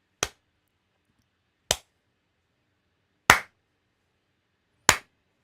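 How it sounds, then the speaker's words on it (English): Four sharp, separate hand claps, evenly spaced about a second and a half apart, sound close and alone against near silence. "The hands are clapping and then the audio is coming."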